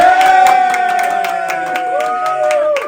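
A crowd claps and cheers with scattered whoops, steady applause over sustained music tones.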